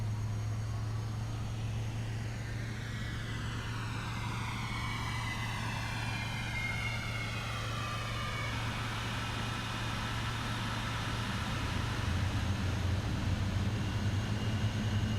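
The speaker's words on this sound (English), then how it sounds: "we're going to go ahead and do a dual start, because that is the art of the 787, there we go. And we can listen to the engines spooling up." Boeing 787 engines spool up in the Prepar3D flight simulator with a steady turbine roar, a low hum and rising whine tones that sweep upward and then level off, continuous throughout.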